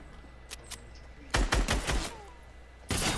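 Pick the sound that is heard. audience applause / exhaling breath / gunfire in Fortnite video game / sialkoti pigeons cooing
gunfire in Fortnite video game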